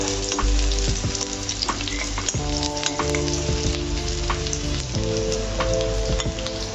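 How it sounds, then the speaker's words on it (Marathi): Finely chopped green chillies are frying in hot oil, giving a loud, dense, continuous crackling sizzle with sharp spitting pops, heard close and without any speech. "तेल गरम होऊ द्यायचे। ही बारीक चिरलेली हिरवी मिरची पण यामध्ये टाकायची आहे।"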